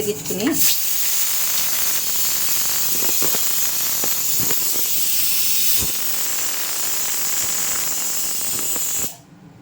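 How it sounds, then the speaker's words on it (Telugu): Fenugreek seeds boil in a pot on a kitchen stove, giving a steady steam hiss and sizzle with occasional clinks and bubbling taps throughout. "మెంతులు చక్కగా ఉడుకుతున్నాయి చూడండి"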